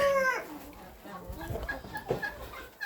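Hens in a backyard coop give short clucking calls, opening with a clear drawn-out cackle and followed by softer scattered clucks nearby, with no talk.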